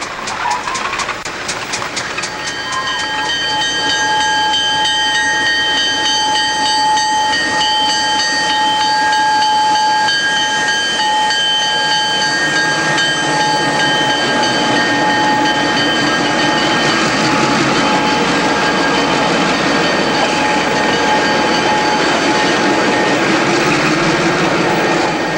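A CN TerraTransport train on the Newfoundland Railway departs, a loud, sustained mechanical roar and hiss with steady high whining tones running through, close by and unbroken, with no voices.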